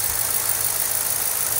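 A 2006 Chevrolet K1500 Silverado with a K&N cold air intake idles under an open hood, a loud, steady, close engine drone with no change in pace.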